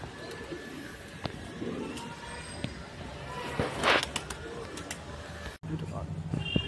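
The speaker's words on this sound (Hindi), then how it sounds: "ये मात्र 500 रुपये पर के कबूतर पड़ेंगे, टॉप क्वालिटी के कबूतर हैं, उड़ते हुए कबूतर हैं" Madrasi pigeons at a pigeon sale cooing softly in bursts, with someone talking over them throughout and faint footsteps and handling noise nearby.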